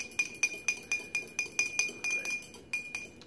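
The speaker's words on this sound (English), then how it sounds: "you probably also want to stir it again before you put it in with the main salad" A utensil stirs salad dressing in a glass, striking the sides in a quick, regular series of bright clinks, close by and alone.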